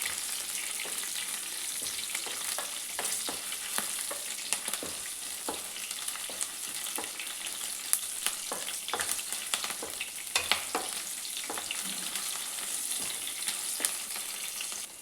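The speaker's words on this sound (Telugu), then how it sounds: "ఇవన్నీ బాగా ఫ్రై అయిపోయాయి కదా" Chillies fry in an AMC cookware pan, giving a steady, fairly quiet sizzle with scattered crackles and occasional stirring scrapes throughout.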